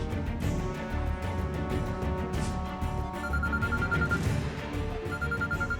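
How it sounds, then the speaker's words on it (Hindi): A telephone rings with repeated electronic tones, set against a background of music, no one speaking. "आशी का फोन है।"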